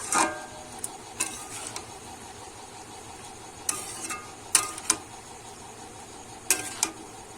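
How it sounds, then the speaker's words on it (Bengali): A spatula stirs bottle gourd greens (lau shak) with prawns in a cooking pan, giving scattered scrapes and metallic clinks that come in small clusters. The sound is fairly quiet and close, with no talking. "এবারে কিন্তু আমি ভালো করে নেড়ে চেড়ে রান্না করে নেব"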